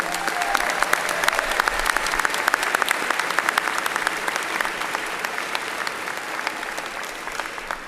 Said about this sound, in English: Please give Dr. Kristen Heddy and the Winthrop Commencement Band a round of applause